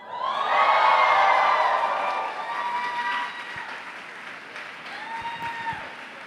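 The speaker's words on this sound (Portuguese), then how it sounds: "Dá um grito, dá um grito," A church conference crowd shouts and cheers loudly with applause and whoops, the roar peaking early then settling into sustained cheering with scattered claps.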